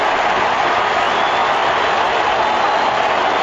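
Large Australian rules football crowd at the MCG grand final replay, Collingwood against St Kilda, roaring and applauding in a steady, dense wash of cheering after a kick, loud and continuous throughout.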